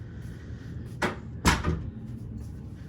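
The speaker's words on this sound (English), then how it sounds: "Go ahead and close this door." A door in a large university office or lab room pulls shut with two distinct thumps close by, the second louder with a short rattle, then a quiet room.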